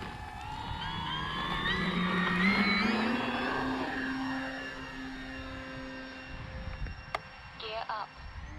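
E-flite Beechcraft D-18 RC model plane taking off, its twin electric motors rising in a whining pitch sweep that grows loud then recedes into the distance, with faint voices and small handling noises near the end.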